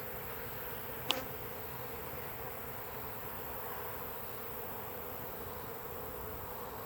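A honeybee swarm buzzing and fanning, a steady dense hum heard at an even level throughout, with a single sharp click near the start and no voices.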